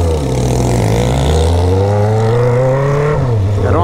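A Honda Hornet motorcycle revs hard through a loud exhaust, the engine note held high and rising before dropping and snapping back up near the end, close and dominant throughout.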